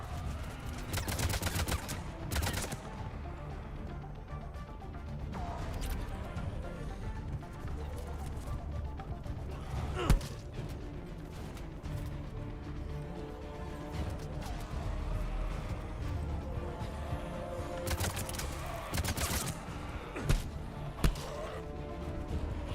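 Gunfire in Mass Effect 3 crackles in scattered bursts and single sharp shots against a busy backdrop of rumbling combat effects and music, fairly faint overall with a few louder isolated cracks.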